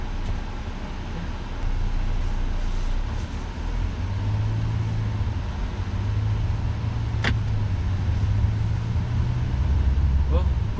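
A used car drives along on a test drive, its engine and road noise forming a steady low rumble heard from inside the cabin, with people talking at times.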